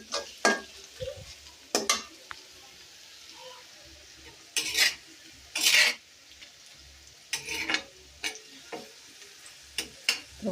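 Onion, ginger-garlic paste and beef fry in a pan in a village kitchen, a low sizzle broken by repeated loud scraping strokes of a spoon stirring against the metal, close and uneven in rhythm.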